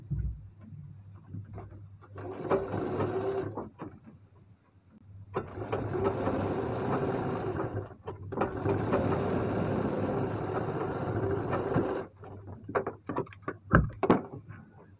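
A sewing machine stitches piping on a blouse in three long runs of rapid whirring, with short quiet pauses between them and a few handling knocks at the end.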